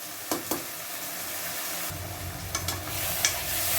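Tomatoes softening in a pan for crab gravy give a steady low sizzle with a few sharp stirring scrapes, continuous and close with no talking.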